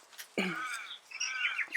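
Several birds chirp and tweet outdoors in a quick run of bright, warbling calls, fairly close and clear against quiet background noise.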